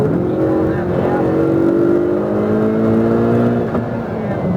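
A Ferrari 488 GTB on a track at DriveXotic accelerates hard, its engine holding a loud, rising, steady drone close by for several seconds, with no voices over it.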